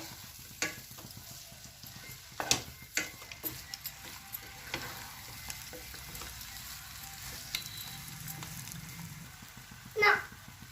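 Grated boiled eggs are stirred into a frying masala for egg bhurji: a faint sizzle runs under repeated spoon scrapes and taps against the pan, with a clack near the end and a person talking quietly in the background.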